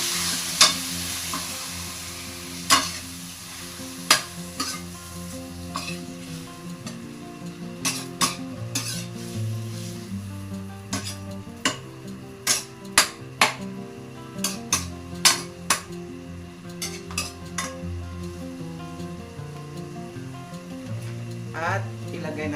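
Squid frying in a pan for adobong pusit, with a steady close sizzle broken by frequent sharp clinks and scrapes of a utensil as it is stirred, irregular and continuous throughout.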